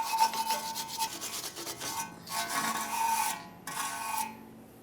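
Wire brush and scraper rasping rust off a brake backing plate on a 1998-2011 Ford Ranger, a close, steady scrubbing in repeated strokes with short pauses between bursts.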